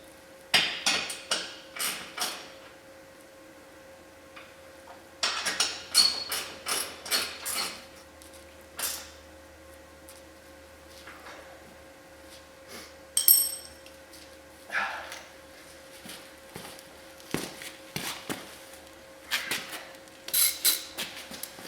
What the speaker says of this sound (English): I'm actually using a gear wrench for this back one here.